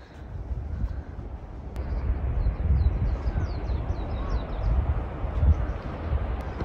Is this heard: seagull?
yes